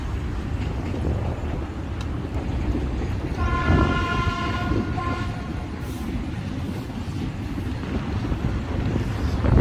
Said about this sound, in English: So there's a freight train coming through there along the linear park.